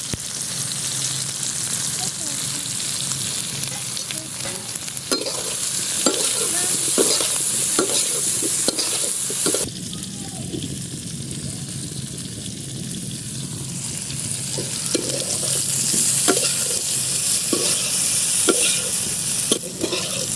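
Eggplant slices frying in oil in a pan, sending up a steady, loud sizzle with stirring scrapes and clatter throughout, briefly quieter midway before the crackling swells again.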